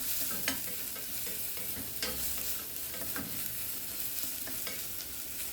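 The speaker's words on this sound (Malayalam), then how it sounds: "പൊടിയായി കട്ട് ചെയ്ത് ഇട്ടുകൊടുത്ത് നല്ലോണം ഒന്ന് ഫ്രൈ ആക്കി എടുക്കണം നല്ലൊരു ബ്രൗൺ കളർ ആകുന്നത് വരെ ഇതുപോലെ ഒന്നിട്ട് ഇളക്കി കൊടുക്കാം" Chopped ginger fries and is stirred in hot oil, a steady crackling sizzle with periodic scraping strokes of a spoon or spatula, continuous and close throughout.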